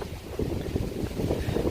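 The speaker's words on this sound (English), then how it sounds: "You see just how windy it is today" Strong wind at Presque Isle near Horseshoe Pond, buffeting the microphone in gusty low rumbles over faint water sounds, with no talking.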